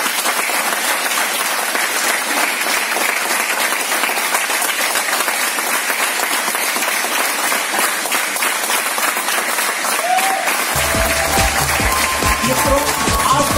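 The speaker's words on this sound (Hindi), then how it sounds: "तालियां।" Audience at a business meeting breaks into long, dense, loud applause that continues unbroken, with a low musical backing and a voice entering near the end.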